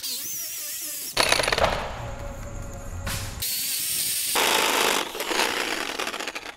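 Power drill boring through a house wall during a DIY electrical service upgrade, starting abruptly and grinding loudly in bursts, pausing briefly and revving again with harsh rattling and whining tones, close to the listener.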